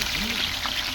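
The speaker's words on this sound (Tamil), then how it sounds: "இப்போ நம்ம வெட்டி வச்ச வெங்காயத்தை போட்டுக்கலாம்." Chopped onions dropped into hot oil already spiced with cinnamon, cloves, cardamom and bay leaf for chicken biryani, giving a steady close sizzle and crackle that fills the whole second.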